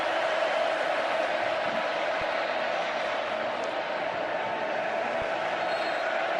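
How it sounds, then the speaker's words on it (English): A roaring crowd fills Kyle Field football stadium during an Alabama at Texas A&M game, a dense, sustained wall of noise heard under a commentator's voice. "And now thunderous noise from the crowd here at Kyle Field."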